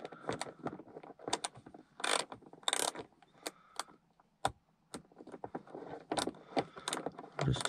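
Screws being tightened into a Saab side grab handle inside a car, giving a run of small close metallic clicks, rattles and scraping taps in irregular bursts with brief pauses, and no talk.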